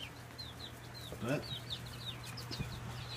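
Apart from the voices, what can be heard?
chickens clucking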